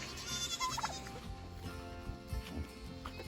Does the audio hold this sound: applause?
no